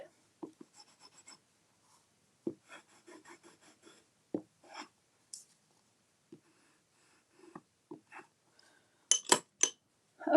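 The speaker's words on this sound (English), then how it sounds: "Give that a little bit of a burnish." A stamped sentiment on paper being burnished by hand: short, quiet rubbing and scraping strokes come in scattered bursts separated by silence, with a few sharper taps near the end.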